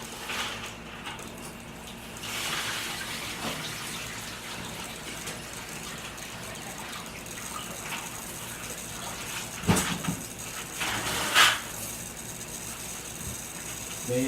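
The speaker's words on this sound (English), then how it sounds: "I'm just gonna rinse these rocks out" Aquarium rocks are rinsed under running water: a steady gushing hiss flows throughout, broken by a few louder knocks and clatters as the stones shift.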